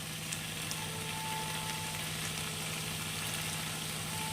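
Cheese pasta seasoned with black pepper frying in a pan makes a constant, even hiss of moderate loudness with faint ticking, with no voices.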